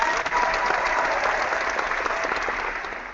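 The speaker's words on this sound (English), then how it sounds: "There's a sympathetic round of applause there." Sympathetic round of applause from a quiz show studio audience, steady dense clapping throughout that slowly fades toward the end.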